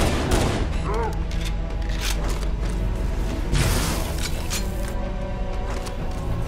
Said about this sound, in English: fire the plasma pistol bolt just over the edge, and then it'll curve down